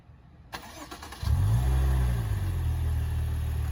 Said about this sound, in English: The Maserati Ghibli does have a remote start.